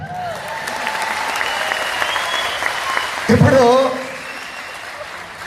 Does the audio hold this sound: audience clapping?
yes